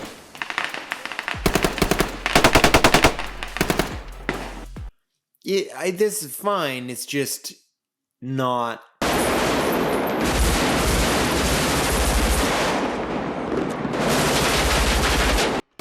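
Heavy automatic gunfire from live-fire blanks during a street shootout scene in the film Heat, loud sustained bursts broken by short gaps and brief spoken lines, then a long continuous roar of shooting.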